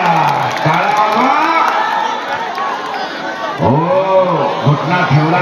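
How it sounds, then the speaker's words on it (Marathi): Crowd at a traditional kusti wrestling bout in Parbhani, a loud, continuous mass of shouting and whooping voices with rising and falling cheers throughout. "टाळ्या टाळ्या टाळ्या टाळ्या टाळ्या."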